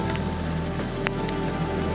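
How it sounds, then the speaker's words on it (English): Pouring rain at St. Julian Harbor, a dense, steady patter and hiss drumming on surfaces throughout, with a constant low rumble beneath and no voices. "St. Julian Harbor, pouring rain"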